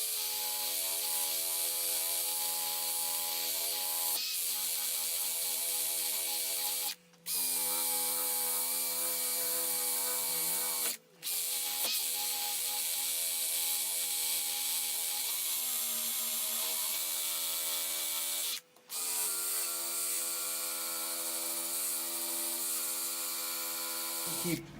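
An axe head being sanded with a spinning sanding disc on a power tool, a loud continuous whine with harmonic tones that drops out briefly three times as the tool pauses.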